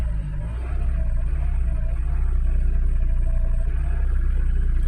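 A 2007 Chrysler Sebring engine runs in limp mode with a P0113 fault, giving a deep, steady rumble that rises slightly after the first moment and then holds with a low throb, heard from inside the car.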